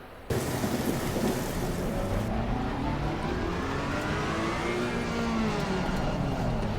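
A race car engine drones steadily through a lap of Donington Park in a racing video game, a dense continuous roar with no pauses from start to finish.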